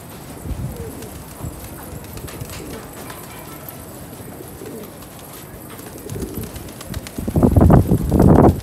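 A flock of many pigeons coos softly in low, murmuring calls, building to louder, throaty cooing near the end, with some shuffling and flapping nearby.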